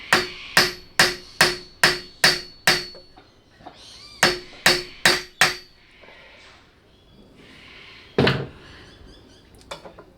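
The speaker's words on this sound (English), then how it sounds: "now we're pounding on the rivets to seat them in" Sharp metallic hammer strikes seat rivets in a copper pot handle, two quick runs of about seven and four evenly spaced blows separated by a pause, then a single heavier knock, close and loud.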